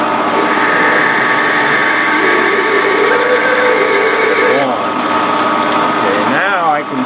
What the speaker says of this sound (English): I'm going to slow it down to 360 for this larger drill